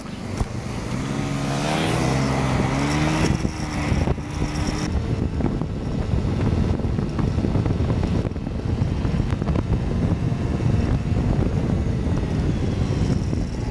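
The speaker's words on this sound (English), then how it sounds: "filled the SD card with videos of cars and traffic" Street traffic in Southeast Asia, around Koh Tao and Krabi, with passing cars and engines roaring continuously and loudly, a rising motor whine early on, dense close-range road noise throughout.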